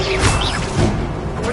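Expelliarmus spell cast in Hogwarts Legacy on PS5, a loud close magical whoosh with a crackling, smashing burst and sweeping tones, heard in a short dense blast.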